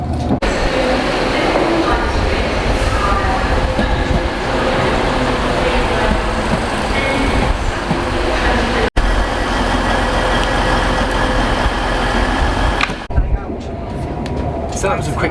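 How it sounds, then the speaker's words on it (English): Steady rumble and rattle of a moving train heard from inside the carriage on the way to York, England, continuous and loud, with a brief dropout and a quieter stretch near the end. "now I'm on the train heading up to York"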